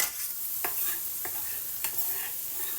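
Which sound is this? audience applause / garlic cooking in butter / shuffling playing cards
garlic cooking in butter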